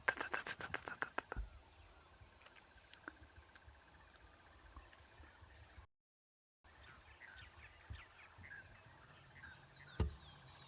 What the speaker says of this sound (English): Bearded woodpecker.